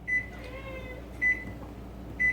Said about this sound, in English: I'll put this in the microwave for just a second because I need to warm it up just a little.